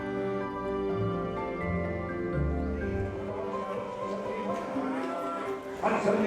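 Hereford cattle moo at a busy cattle market, several deep, drawn-out calls overlapping loudly and close by against a constant background of crowd and animal noise.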